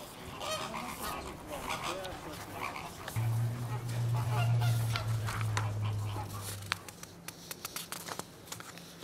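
A breeding colony of pink flamingos at a zoo in Hungary, a dense chorus of honking, goose-like calls over a noisy outdoor background, with a steady low hum through the middle.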